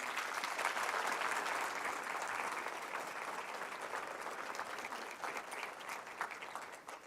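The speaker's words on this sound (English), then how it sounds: "So a big round of applause to everyone, please." An audience at a university convocation applauds with sustained, dense clapping that fills the hall, gradually thinning toward the end.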